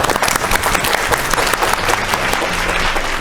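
A studio audience at a family game show breaks into loud, sustained applause, many hands clapping densely and evenly for the whole stretch, with a faint crowd murmur underneath.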